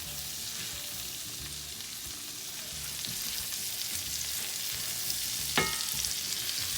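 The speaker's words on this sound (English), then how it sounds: "Now, you want to cook your vegetables down." Vegetables for fried cabbage cooking down in a pan, a continuous close sizzle with irregular stirring scrapes and one sharp utensil clink late on, no one speaking.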